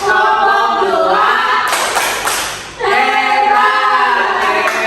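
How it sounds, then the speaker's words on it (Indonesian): A class of young pupils gives a short burst of rhythmic 'tepuk hebat' clapping in a classroom, with children's voices chanting together before and after the clap. "Boleh kita kasih tepuk hebat?"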